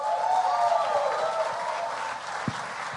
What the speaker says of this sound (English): please keep your hands clapping for the cast of Grimm